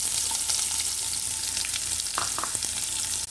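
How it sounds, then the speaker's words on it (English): Onion frying in hot oil with jeera, red chilies and curry leaves for a long bean and potato curry, a steady loud sizzle with brief stirring scrapes near the end. "Heat the oil and add them into the oil. Now add 1 cup of onion stitch."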